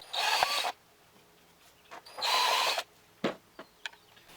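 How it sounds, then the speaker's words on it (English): A unibit step drill bit boring into the plastic air box of a Yamaha TTR90, two loud bursts of close whining drilling separated by quiet handling clicks and taps. "So now I'm going to use the unibit"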